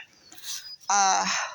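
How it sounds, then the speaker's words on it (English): Chickens in a home garden give a loud, close burst of clucking vocalizations after a quieter, fainter bird call at the start. "Chickens."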